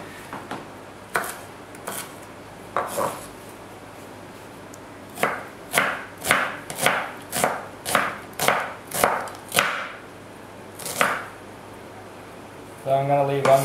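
A knife chops onions into chunky pieces on a board, a rapid run of about ten crisp, evenly spaced thuds close by, with a few scattered cuts before and after.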